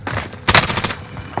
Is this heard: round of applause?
no